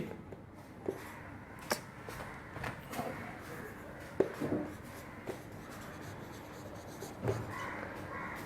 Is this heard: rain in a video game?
no